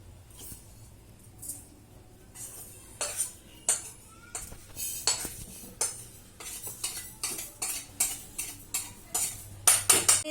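A utensil stirs wheat biscuit dough made of wheat flour, semolina, dry fruit powder and sesame seeds in a bowl. It makes a run of sharp metallic clinks and scrapes that grow quicker and louder toward the end, close by with no talk.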